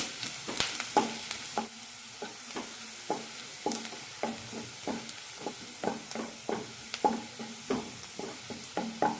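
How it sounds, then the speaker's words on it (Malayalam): Small chopped onion sautéing in a tablespoon of oil in a pan, soft steady sizzle under repeated stirring scrapes of a spoon, close and fairly quiet with no talk. "ഒരു ടേബിൾ സ്പൂൺ എണ്ണയാണ് ഒഴിച്ചിരിക്കുന്നത് ഇതിലേക്ക് സവാള ഇട്ട് കൊടുക്കാം"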